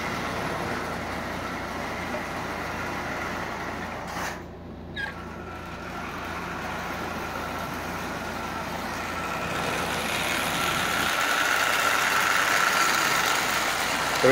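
A Marx 999 toy train locomotive with its original tender runs steadily along the track, a continuous even mechanical whir with a brief dip partway through and a slightly louder stretch near the end.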